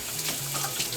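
Tap water runs steadily into a sink to soak a cooking pan used for homemade cream of wheat, a soft continuous hiss heard alone at low level.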